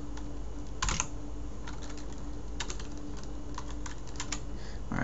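Someone types on a computer keyboard while entering registration details. The keystrokes are light and scattered, with a few clustered clicks over a steady low hum.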